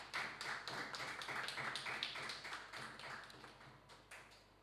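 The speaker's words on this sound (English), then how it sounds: "I want to hear a round of applause consistent with how good the debate was" Debate audience applauding after a contest between two ministry teams, a dense steady wash of many hands clapping for several seconds before tapering off near the end.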